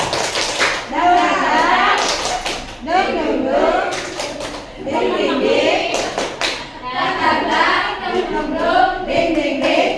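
A class group does a rhythmic spirit clap while chanting together, loud and close, with repeated bursts of claps and voices.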